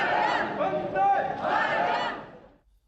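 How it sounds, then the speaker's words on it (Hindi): Crowd welcoming PM Modi in the Maldives rhythmically chanting Vande Mataram, massed voices rising and falling in repeated phrases, loud and close, then fading out at the end. "वंदे मातरम की गूंज यहाँ सुनाई दे रही है"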